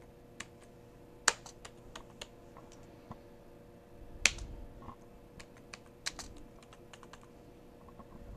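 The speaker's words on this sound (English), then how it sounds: "Usually, after I do such strenuous typing" Typing on a computer keyboard: sparse, irregular key clicks and a few sharper taps, close and fairly quiet against a soft background hum.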